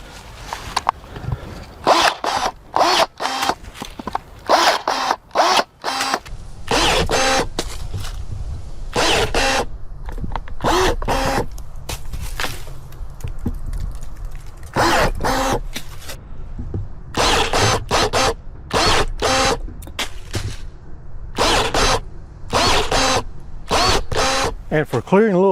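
A DeWALT 20V Max cordless pruner cuts branches about an inch thick, with repeated short bursts of motor whir and blade snipping that come in clusters separated by brief quieter gaps.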